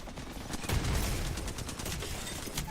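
Video game combat in a collegiate match, with a grenade blast and a flurry of gunfire forming a dense, loud burst of crackling shots and a heavy low thump.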